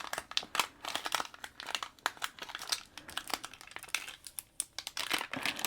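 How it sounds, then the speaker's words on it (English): Cricut vinyl decal being rubbed down onto transfer tape and peeled away, a close, busy stream of crinkling, scraping and tearing rustles with short crackly bursts throughout, no talking. "So I'm just rubbing it down and peeling away."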